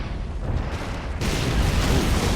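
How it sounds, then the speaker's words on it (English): Tanks explode in the World War II strategy game Men of War: Assault Squad, a dense, continuous wall of rumbling blasts and booms that swells louder partway through, with no voices. "Ooh, big explosions from those tanks."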